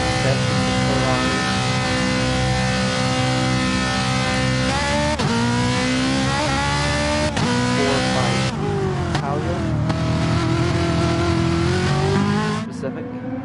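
Loud, sustained engine whine of GT4 race cars in a sim racing game at the Red Bull Ring, pitch rising and dropping with gear shifts and revving throughout, under commentary talk.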